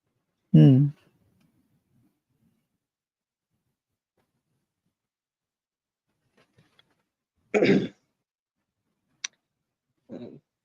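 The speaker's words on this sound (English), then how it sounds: "I had a tickle in my throat. I had a cough." A single short cough bursts out near the start from a tickle in the throat, followed by long quiet and a few faint clicks and brief soft sounds later.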